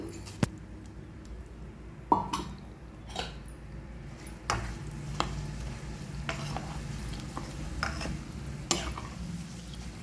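Henna leaves dropped into oil warming over a low flame, a soft continuous sizzle and frying hiss under scattered stirring scrapes and clinks from a utensil, close by, with no talk.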